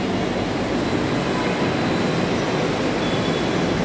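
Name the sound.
Kolkata metro train departing toward Dakshineswar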